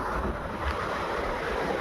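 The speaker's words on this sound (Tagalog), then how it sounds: "Medyo kalmado ang dagat at mahangin, malamig yung hangin" Steady wind rushes over a calm sea beside a damaged seawall at high tide on a cold, windy, sunny shore, with soft surf washing in continuously and wind buffeting the microphone throughout.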